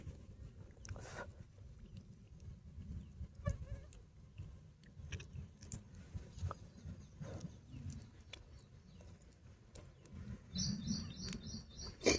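Sparrows chirp in short scattered calls through the first rain of the season in Konkan, heard over a steady low rumble of background noise, with a brighter burst of twittering near the end.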